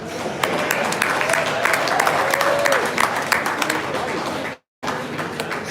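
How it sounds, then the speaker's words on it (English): Audience applause at a Super73 electric bike launch event, a dense, steady patter of clapping with some crowd voices mixed in, broken by a brief silent gap near the end. "just some claps for that"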